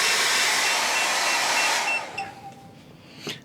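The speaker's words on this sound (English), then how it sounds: "Let's take a look at a hairdryer." A household hair dryer with an electric heater and fan motor roars with a loud steady hiss and whir, then switches off and winds down to quiet with a few faint clicks.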